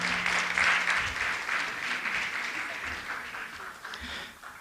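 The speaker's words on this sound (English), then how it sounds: "Give them a big round of applause." An audience in a temple auditorium applauds at a silver jubilee gala, a full, sustained round of clapping that starts loud and tapers off slightly toward the end, with no one speaking over it.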